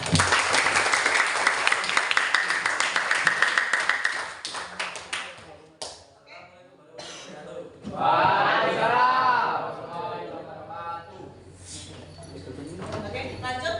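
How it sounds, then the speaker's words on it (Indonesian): Classroom clapping for a student group, a burst of hand claps in the first few seconds that thins out, followed by voices talking and laughing. "Tepuk tangan untuk kelompok 2."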